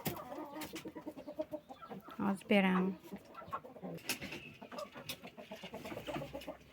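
Hens in a poultry yard cluck steadily, with one loud, drawn-out squawk partway through, while someone speaks over them close by.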